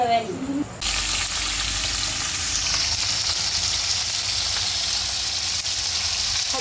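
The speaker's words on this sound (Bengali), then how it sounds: "গোলা মাছ রান্না করছো" Fish frying in a pan gives a steady, loud, broad hiss that starts abruptly and holds for several seconds, with a brief voice and clatter just before it begins.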